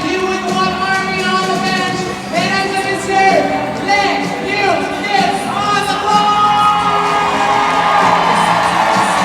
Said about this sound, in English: it's a loud partisan crowd and an amped up bunch of skaters cheering their people on